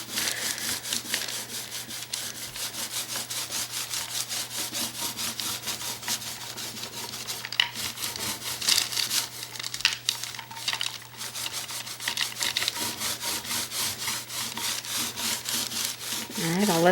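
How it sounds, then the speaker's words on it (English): A damp two-inch foam roller rolls warm beige acrylic paint onto a canvas panel as a base coat, giving a steady, soft, sticky rubbing sound that carries on throughout under a faint low hum. "I'm going to use my 2-inch damp foam roller and some warm beige, and we're going to base coat this surface"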